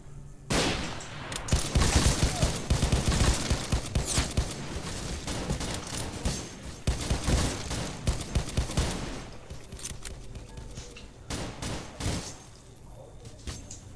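Crackling volleys of gunfire in the S.T.A.L.K.E.R. Misery mod video game, rapid bursts and scattered single shots rattling on for several seconds, then thinning out.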